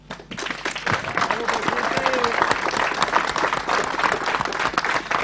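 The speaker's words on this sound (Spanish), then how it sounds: "para quien pido un aplauso" An audience at a tribute to Luis Alberto de Herrera applauds former president Luis Alberto Lacalle, a full, continuous burst of many hands clapping that swells quickly and holds steady, with voices mixed in.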